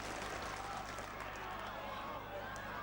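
Crowd noise at a 1989 rugby league match between Featherstone Rovers and New Zealand, a steady, broad roar of spectators cheering throughout, with no clear talk over it.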